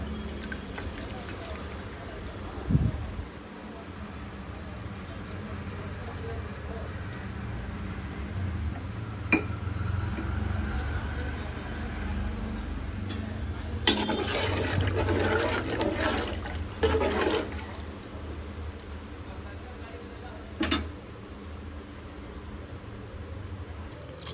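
Water splashes and trickles into a cooking pot for a village-style fish curry in bursts, with a person talking over the pouring and soft kitchen clatter around it.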